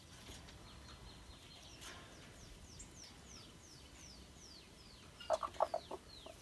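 Hens clucking in a forest homestead setting, a faint distant ambience of bird chirps before a close burst of several quick clucks near the end.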